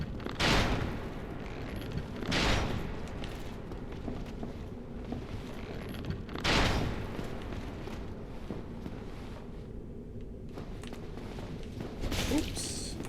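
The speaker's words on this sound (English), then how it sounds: "Somebody's shooting at us." Shots ring out in Dark Souls Remastered, four sharp separate blasts spaced a few seconds apart over a low, murky background.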